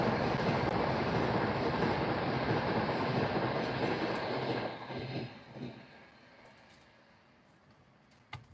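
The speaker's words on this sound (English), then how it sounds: "There goes an Avanti West Coast Class 390, obviously on its way to London Euston" An Avanti West Coast Class 390 train rushes past close by with a loud, broad roar that holds steady for several seconds, then fades away quickly, leaving quiet with a brief click at the end.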